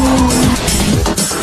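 A drifting car's tires squeal in a sustained, wavering screech over engine roar, loud and close, the pitch sliding as the car slides.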